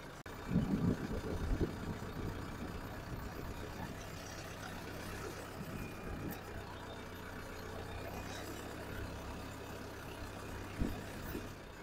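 A tractor engine runs steadily while pulling out a large tree stump during land clearing, a low continuous rumble with a steady hum, a louder surge near the start and occasional knocks and creaks over the drone.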